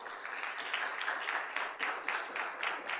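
A church congregation claps in praise during a sermon, a fairly soft, continuous patter of many hands with rhythmic pulses over about three seconds.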